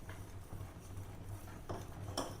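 A spoon scraping and clinking around a metal pot while stirring thickening custard on a gas stove, soft steady stirring with a few sharper knocks against the pot.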